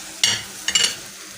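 A spoon stirs tomato paste and sauce in a pan, giving two or three quick, close scraping swishes over a soft sizzle with no talk.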